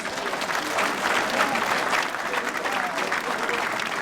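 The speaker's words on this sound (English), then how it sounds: "give me another round of applause" Audience applauding at a Martin Luther King Day breakfast: steady, dense clapping from a crowd indoors, sustained evenly from start to finish without letting up.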